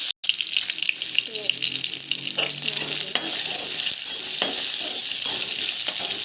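Cumin seeds and fenugreek sizzling in hot oil in a pan, a steady bright crackle and hiss that runs continuously and close, with a few small clicks and stirring sounds.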